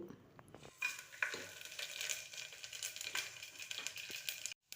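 Dry spices crackle and sizzle in hot oil inside a pressure cooker for a vegetable pulao, a steady close frying hiss with a few stirring scrapes, cutting off abruptly near the end.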